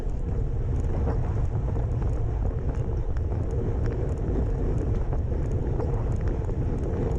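Steady wind roars and buffets a microphone during a bike race, a constant broadband rush without breaks and no voices.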